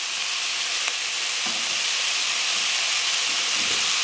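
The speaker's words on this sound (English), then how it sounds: "so that it'll stop our sauteing and start cooking our squash" Onions sauté in a pot for a vegetable soup, a loud, steady close sizzle and hiss with no pause, broken only by a few faint stirring scrapes.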